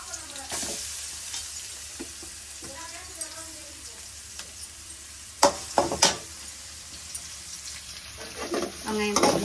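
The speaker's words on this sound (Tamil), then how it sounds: "வெங்காயம் போட்டு நல்லா வதக்கிட்டு நல்லா வதங்கட்டும்." Onions and green chillies sautéing in a pan sizzle steadily while a spatula stirs them, sending out intermittent scraping clatters over the hiss.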